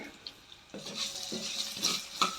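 Garlic cloves hit a pan already frying sesame seeds, giving quiet scraping stirs and light clinks of a spoon against the pan over a soft, faint sizzle.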